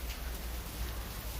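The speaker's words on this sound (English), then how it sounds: "The rain keeps going on and off" Steady rain falling outdoors, a continuous even patter with no other sounds standing out.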